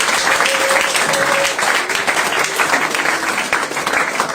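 A church congregation applauds and cheers for Jesus, loud, dense clapping and crowd noise filling the whole clip close up.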